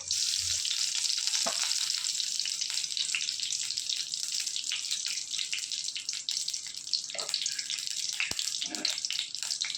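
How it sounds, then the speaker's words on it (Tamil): Mustard seeds dropped into hot oil in a kadai for a chutney tempering set up a loud, unbroken sizzling hiss dotted with sharp pops and crackles, heard up close with no speech. "கொஞ்சமாக எண்ணெய் ஊற்றி ஒரு கடாயை ஊற்றி எண்ணெய் ஊற்றிருக்கேங்க கொஞ்சம் கடுகு போட்டுக்கிறேன்"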